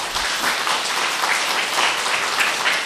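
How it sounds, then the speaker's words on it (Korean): Church congregation applauding in encouragement during a Sabbath service: a full, dense round of clapping from many hands, steady and loud for the whole stretch, with no talking over it. "이분들에게 우리 격려의 박수 한번 크게 보내겠습니다."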